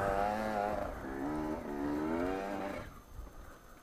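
A dirt bike engine strains up a steep, almost vertical hill on an Arizona trail, revving hard in rising and falling waves before dropping away to near quiet.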